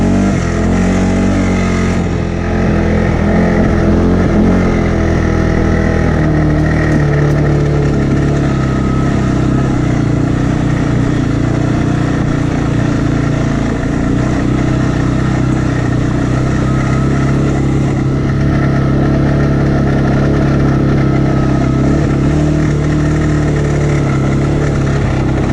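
Engine of a 2022 CFMoto 600 touring motorcycle on the road, a steady loud drone with wind rush that holds for about 25 seconds, with no talking over it.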